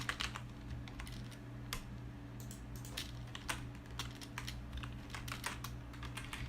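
Computer keyboard keys tapped steadily while coding a React project, a close run of quick irregular clicks over a low steady hum, with no talking.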